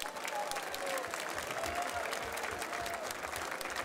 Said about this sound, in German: Und den ganzen Damen mal ein herzliches Applaus, wie sie hier Spalier stehen